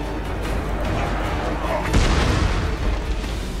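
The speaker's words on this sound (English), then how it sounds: "Oh yeah, they got a cannon, of course." A cannon in Total War: Warhammer fires a deep, booming shot that rolls out over ongoing battle noise, with a voice talking over it.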